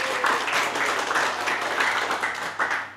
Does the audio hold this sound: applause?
yes